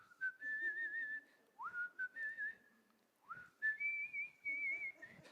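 Someone whistles a melody in clear, sliding phrases, close and fairly soft, with short pauses between the lines of the tune.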